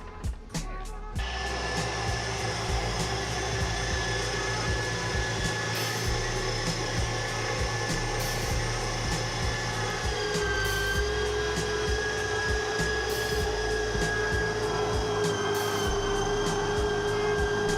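A KitchenAid stand mixer with a grinder attachment grinding meat, starting up after a couple of clicks into a loud, steady motor whir with a faint whine, continuing without talk.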